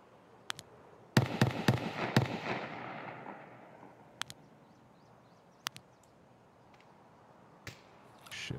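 Sharp gunshots in the game Escape From Tarkov crack toward the player: a few scattered single shots, then a dense burst of several close reports with a fading echo tail, followed by isolated distant cracks.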